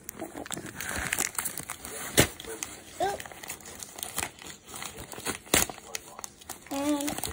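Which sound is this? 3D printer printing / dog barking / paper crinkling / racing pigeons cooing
paper crinkling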